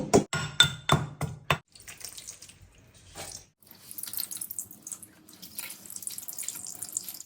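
Fenugreek leaves are washed in water in a kitchen sink, with a burst of close clattering and splashing at first, then quieter running water and soft handling noises.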